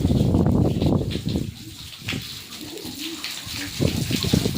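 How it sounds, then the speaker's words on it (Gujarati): Pigeons coo in low, soft repeated calls close by on a farm, with a steady rush of running water from a well underneath. "કબૂતરાના કિલો સાથે"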